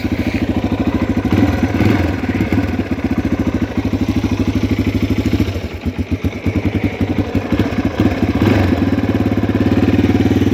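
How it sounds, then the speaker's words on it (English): A brand-new 2018 Yamaha TTR230 air-cooled bike idles with the choke on as it warms up, giving a loud, close, steady thumping engine beat that briefly wavers midway, with no talk over it. "It'll warm up a little faster with the choke on."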